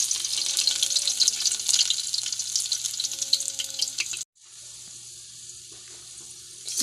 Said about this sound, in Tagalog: At ngayon ay gigisahin ko na siya.